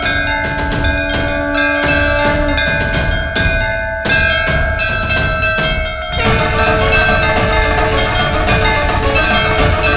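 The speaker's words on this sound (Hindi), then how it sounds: "फिर मंदिर की घंटी कौन बजा रहा है?" A temple bell rings repeatedly with bright, sustained metallic tones layered over a dense, dramatic backdrop of music and other sounds, loud and continuous throughout.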